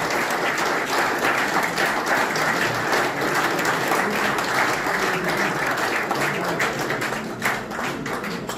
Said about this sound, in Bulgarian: аплодисментите са за бат Владо